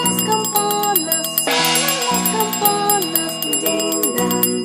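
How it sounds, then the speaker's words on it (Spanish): Bright bell chimes ring through a Spanish-language children's version of Are You Sleeping, striking in short repeated patterns alongside the sung melody and backing music. "Suenan las campanas, din dan don"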